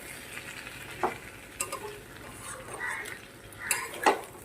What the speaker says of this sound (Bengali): এবারে ভেজে রাখা মাছগুলো এর মধ্যে দিয়ে দিলাম, দিয়ে নেড়ে চেড়ে কিছু পরিমাণ জল দিয়ে দেবো